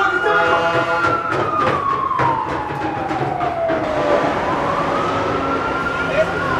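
An emergency vehicle siren, likely an ambulance, wails in sweeping rising and falling tones over steady background noise with scattered clicks and bumps, loud and fairly close.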